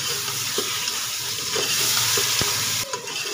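Spiced masala frying with kachalu (taro root) in a pan, a steady close sizzle with occasional scrapes and taps from stirring, no voices.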